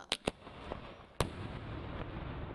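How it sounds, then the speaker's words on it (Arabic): A stun grenade set off as Jerusalem's Ramadan cannon cracks in a few sharp distant bangs, followed by one louder blast and a long rumbling wash of echo and noise. "مدفع رمضان بقنبلة صوت"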